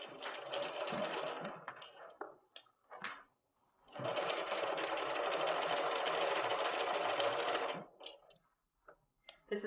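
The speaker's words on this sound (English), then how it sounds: "we're just sewing with a 1/4 inch seam allowance all the way down this side" Sewing machine stitching a quarter-inch seam along a color-block throw blanket, running in two steady bursts of rapid whirring stitches separated by a short pause, with light clicks between, close and fairly quiet.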